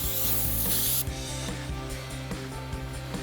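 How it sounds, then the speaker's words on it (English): A short hiss of brake cleaner spray for about a second, followed by rhythmic rubbing and wiping strokes against a new brake rotor for a Silverado 1500 truck. "Give that a spray and wipe it off."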